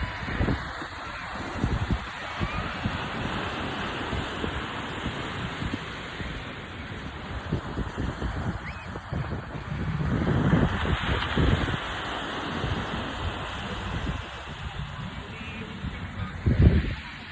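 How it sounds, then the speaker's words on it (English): At a beach, gusty wind buffets the microphone over a background wash of ocean surf, with rough swells of louder noise rising and falling and a sharp thump near the end. "today I'm here at the beach"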